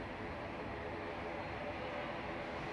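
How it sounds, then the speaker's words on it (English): Ethiopian Airlines Airbus A350-900 taxiing at Manchester Airport, a steady distant jet engine roar and hum that holds constant throughout at low level. "Ethiopian A350-900 taxiing out."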